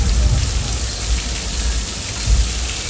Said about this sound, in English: The rain is coming out of sprinklers that shoot the rain up a little